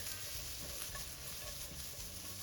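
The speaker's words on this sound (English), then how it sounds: "I'm frying the vegetables until I get this charred look" Vegetables stir-frying in hot oil in a pan for chow mein, a steady close sizzle with stirring crackles over a short stretch.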